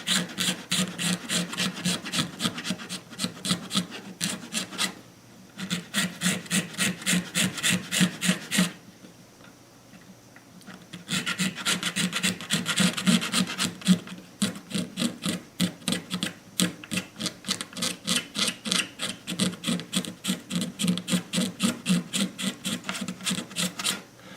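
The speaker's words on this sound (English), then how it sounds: "that'll give me just enough clearance to scrape this" A dropped, damaged Martin guitar has its finish scraped by hand, with rapid rhythmic rasping strokes, close and loud, in long runs broken by a short quiet pause.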